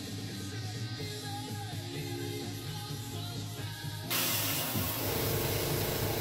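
An airbrush hisses continuously as paint is sprayed through a rivet stencil, aimed at the top of each hole. The close, steady spray brightens and grows slightly louder partway through.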